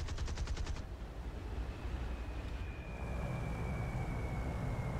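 A bomber's defensive gunners firing in the video game War Thunder: a short rattle of rapid shots at the start, then a steady heavy engine drone and rumble that continues throughout.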